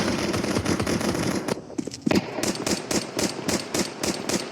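Rapid gunfire exchange in the Counter-Strike 2 tournament match, dense bursts of shots at the start, then a steady run of sharp, evenly spaced rifle shots, loud and close over constant game ambience.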